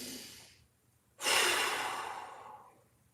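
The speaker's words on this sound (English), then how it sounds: "We're breathing into the back of the body." Deep breathing during a mobility exercise, breathing into the back of the ribs: a fading exhale, a short pause, then a long, loud, close breath that slowly tapers off, with no talking.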